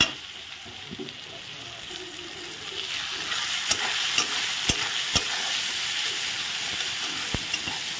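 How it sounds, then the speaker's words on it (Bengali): Spices fry in hot oil with chopped onion, garlic and tomato as they are stirred, giving a steady soft sizzle broken by several sharp clicks of a spoon against the pan. "এখন এই তেলেই আমি মশলা দিয়ে দেব, একটু ভালো করে ভেজে কষিয়ে নিচ্ছি।"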